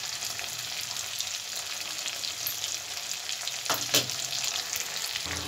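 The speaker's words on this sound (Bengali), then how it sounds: "মশলাটাকে ভালো করে কষিয়ে নেব।" Spice masala of dried red chilli powder, Kashmiri chilli powder, turmeric and salt sizzles steadily in a pan for a Bengali prawn curry. The frying hiss is close and continuous, with a brief stirring scrape near the end.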